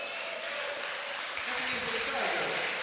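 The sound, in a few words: fans applauding a player leaving a basketball game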